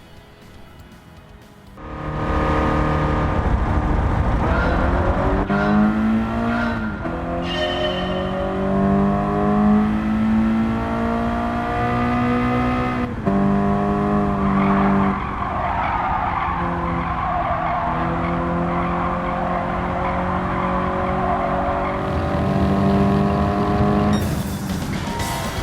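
Volkswagen Scirocco lapping Dragon Trail Gardens in Gran Turismo 7, its engine droning and revving through gear changes while tires squeal and skid almost continuously, loud and close with no talk.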